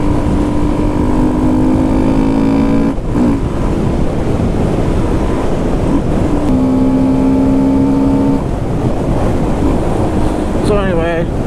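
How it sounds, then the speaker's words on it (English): Honda Grom motorcycle engine with a K&N intake filter drones loudly and steadily, its intake roar rising and falling through gear changes under heavy wind buffeting on the microphone. "It's still pretty loud with the intake noise."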